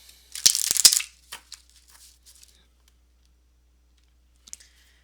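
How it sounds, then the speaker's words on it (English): A deck of tarot cards is shuffled in one brisk, rattling riffle of snapping card edges, followed by a few soft taps and a faint click later, nearby in a quiet room. "I'm gonna go ahead and shuffle them anyway because you guys like to see me shuffle."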